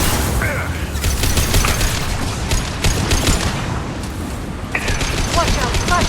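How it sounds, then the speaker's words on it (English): Gunfire and explosive bursts from a firefight in the video game Mass Effect 2, with dense rapid shots and booms filling the clip continuously, including a flashbang grenade detonation amid the combat. "Watch out, flashbang!"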